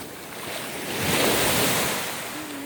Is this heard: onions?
no